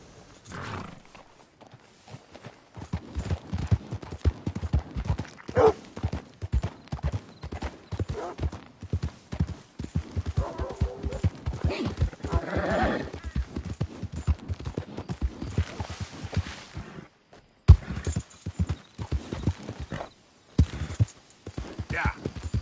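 Horse hooves clip-clop in a steady, fast galloping rhythm in the video game Red Dead Redemption 2, close and loud, with a short pause near the end before resuming, while a player speaks over it.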